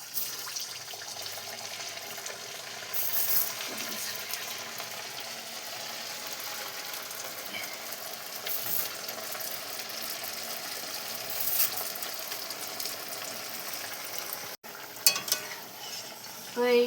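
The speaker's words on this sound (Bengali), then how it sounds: "তো তেলের মধ্যে আমি একটা একটা করে দিয়ে ভেজে নেব।" Sujir pitha frying in hot oil makes a steady, even hiss that runs throughout, close and moderately loud, with a few faint clinks near the end.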